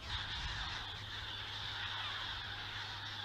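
Alarmed gull colony in the Ria Formosa wetlands, a dense, continuous chorus of many overlapping harsh calls at moderate distance over a low background rumble, no talk.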